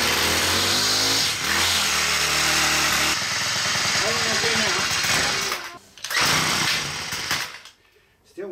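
A Poulan pole saw engine sputters and runs on full choke: a loud, close two-stroke buzz whose pitch climbs and dips, then cuts out and surges again near the end.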